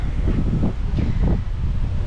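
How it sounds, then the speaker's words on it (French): Strong wind at the bow of a Disney Cruise Line ship, roaring steadily and buffeting the microphone with loud low rumble throughout. "Alors tout à l'avant, il y a énormément de vent, ça fait vraiment du bien."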